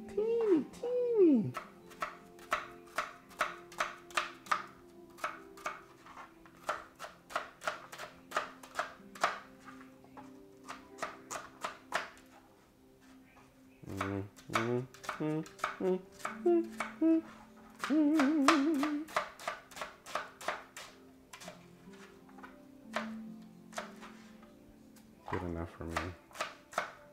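Small baby onions peeled by hand in a home kitchen while cooking gumbo, with soft crackly rustles and scraping touches from the papery skins, close up under steady conversational talk.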